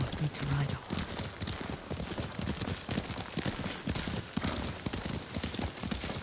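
Rhythmic hoofbeats of a galloping horse in the video game Ghost of Tsushima pound steadily throughout, with music and voices layered over them.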